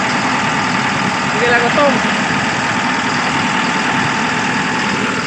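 A Sinotruk diesel truck engine runs at a steady idle with a dense, continuous mid-range rumble, and someone speaks briefly over it.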